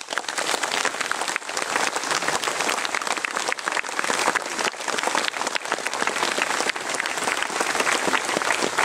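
Sustained, dense crowd applause at a Ukrainian National Day of Remembrance commemoration in Przemyśl, a steady roar of many hands clapping without a break for almost nine seconds, with no talking over it.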